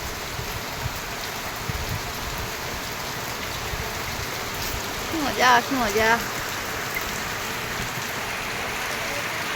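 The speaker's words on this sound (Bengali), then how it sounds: "কি বৃষ্টি নামিয়েছে" Heavy morning rain pours steadily outside an open door, a dense continuous hiss of drops on surfaces, with a brief excited voice speaking midway over the downpour.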